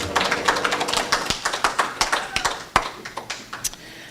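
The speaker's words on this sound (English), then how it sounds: "the clapping hands in the background was perfect" Hands clap in quick, steady rhythm during a Sunday church celebration service, a run of sharp, fairly close claps at a moderate level.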